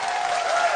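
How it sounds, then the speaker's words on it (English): A crowd applauds at a professional pool match featuring Rempe playing for the USA, a dense, steady wash of clapping heard loud and close for a brief moment. "And suddenly, the crowd warms to the task."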